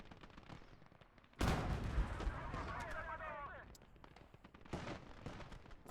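A tank main gun fires in the World War II game Gates of Hell: one loud, close boom with a rolling rumble that fades over several seconds. A lesser blast follows later amid steady battlefield noise.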